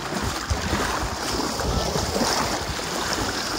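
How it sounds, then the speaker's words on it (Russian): Waves wash onto a sandy, shallow beach near Zelenogradsk on the Baltic coast, heard as a continuous broad roar of surf mixed with gusts of wind buffeting the microphone. "Вот так вот выглядит пляж возле Зеленоградска."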